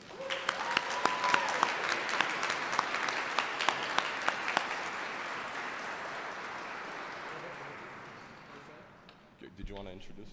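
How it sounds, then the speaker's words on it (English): Audience applause for the Prince Charles Fiddlers at the Louis Riel commemorative ceremony, a steady wash of clapping from a crowd that fades out over about ten seconds, with a voice coming in near the end. "Please give them a big round of applause."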